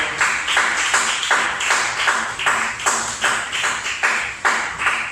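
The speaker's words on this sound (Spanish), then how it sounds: "Dale un fuerte aplauso al Señor en esta tarde" A church congregation claps in steady, loud unison, each sharp clap evenly spaced in a regular rhythm that fills the room throughout.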